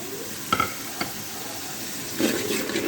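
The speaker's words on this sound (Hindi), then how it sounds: "मसाला भुन चुका है, लहसुन अदरक, ये पिसा हुआ मसाला है" Ground garlic-ginger masala frying in a pot for chana pulao, a soft continuous sizzle broken by a few sharp scrapes and stirring knocks of the spoon, close and fairly quiet.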